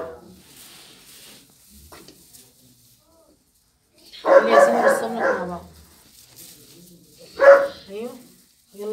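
Puppies yapping and whimpering in a home where they are kept for sale, two loud bursts of barking separated by quiet stretches, with people talking softly nearby.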